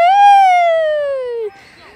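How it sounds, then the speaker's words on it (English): A loud, close siren wail slides slowly downward in pitch and then cuts off abruptly after about a second and a half. "the siren's going off!"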